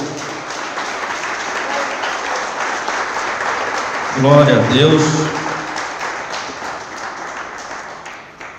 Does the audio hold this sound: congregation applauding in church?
yes